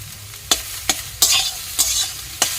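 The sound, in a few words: stir-frying papaya leaves with chopped coriander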